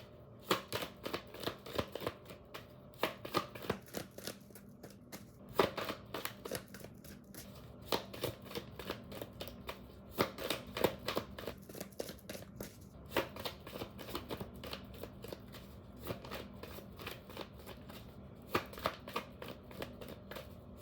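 A tarot deck is shuffled over and over, close and fairly quiet, in quick riffling bursts broken by short pauses.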